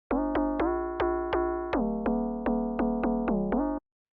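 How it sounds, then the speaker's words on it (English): A synthesized FM bass built from two sine waves plays a run of about a dozen bright, buzzy notes in a steady rhythm, each note swelling then cut short, alone and clean. "So pretty straightforward FM bass."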